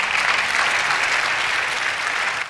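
A church congregation bursts into loud, dense applause that holds steady throughout, with no voices rising above it.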